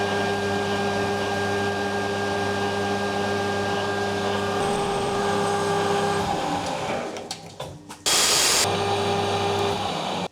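A lathe taking a light finishing spring pass on a steel barbell for a powerlifting competition, giving a steady loud mechanical hum and drone that changes partway through, ending in a brief harsh burst before the hum returns.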